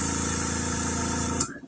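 An airbrush spraying thinned paint in a soft pattern gives a steady hiss over a low mechanical buzz, close and continuous, then it stops with a brief puff.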